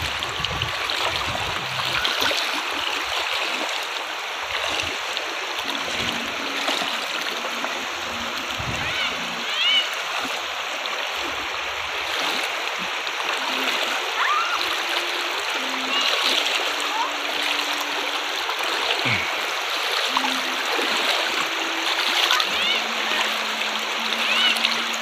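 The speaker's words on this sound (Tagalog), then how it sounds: "si kapartner ay tumatawid ng ilog" Footsteps of a person wading across a flowing river near a dam site in Cauayan, Negros Occidental, with steady rushing water and intermittent splashes, heard close under occasional speech.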